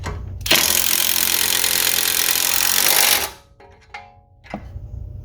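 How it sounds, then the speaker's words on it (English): An impact wrench runs in reverse on a sway bar end link nut on a 2010-2014 Ford Taurus: one loud, close, continuous whirring rattle for about three seconds, then a drop to quiet with a few small clanks. "since that's guaranteed to spin on us, put our impact in reverse here"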